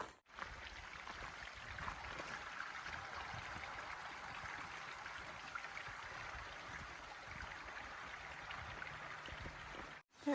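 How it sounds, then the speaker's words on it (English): Water runs across a trail and a road, a steady, soft rushing that carries on alone and unbroken for several seconds. "There is water running everywhere."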